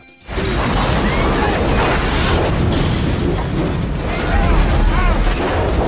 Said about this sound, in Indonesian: Tiba-tiba saja bus itu meledak hebat.